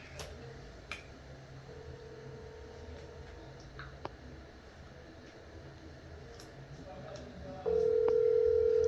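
A telephone sounds in a Jamaican drama scene: after quiet room noise with a few faint clicks, a steady electronic phone tone starts near the end and stays loud and level.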